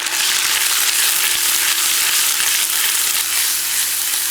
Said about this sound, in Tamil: அடுத்து அரைச்சி வச்சிருந்த இஞ்சி பூண்டு சின்ன வெங்காயத்தை சேர்த்துக்கலாம்.